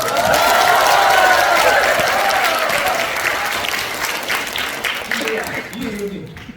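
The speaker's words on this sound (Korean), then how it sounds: "박수 한번 보내주시오" Audience applause at a changgeuk stage performance, a dense, loud clapping wash that fades gradually toward the end. Voices come through over the tail.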